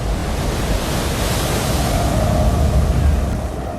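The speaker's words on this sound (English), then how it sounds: "the sounds of the ocean and the creaking of the ship" Steady ocean surf and wind wash from a sea-going sailing ship in Master and Commander, a broad continuous roar with no clear creak picked out, holding level and close throughout.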